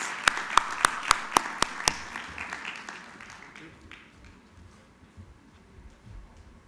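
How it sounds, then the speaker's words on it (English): A small audience claps for a panelist at an educators' social impact forum, with about seven sharp, evenly spaced claps up close before the room settles into quiet murmuring. "Warm round of applause, please."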